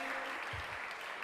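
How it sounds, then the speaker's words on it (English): Applause from an audience at the SIMULCON 2024 event, a steady faint wash of clapping that fills the short moment without a break. "Give him a big round of applause"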